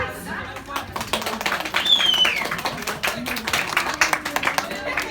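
Guests at a baptism celebration clap in a lively, irregular patter that swells in the middle and then thins into scattered claps, with a busy room and voices underneath.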